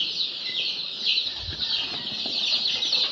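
Continuous high-pitched peeping from a crowd of Sonali chicken chicks in a brooder, steady and overlapping, with faint shuffling and a soft low thump partway through.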